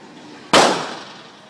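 A single sharp crack of AR-15 rifle fire outdoors, loud and close, with a short decaying tail.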